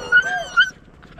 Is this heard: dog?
yes